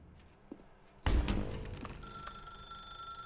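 Telephone ringing in the video game The Stanley Parable, a sudden bright electronic ring bursting in after a quiet moment and sustaining with steady tonal overtones.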